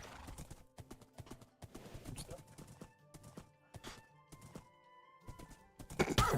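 Horse hooves clop quickly and lightly in a Minecraft game, with a steady run of hoof strikes and dull thunks, a brief whinny and faint voices in the background.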